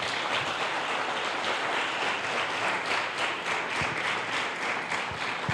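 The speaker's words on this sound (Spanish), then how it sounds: "den un fuerte aplauso al Señor por esta palabra" Church audience giving a strong round of applause to the Lord after a sermon, a sustained, even roar of many hands clapping from a sizable congregation, filling the whole span without talk.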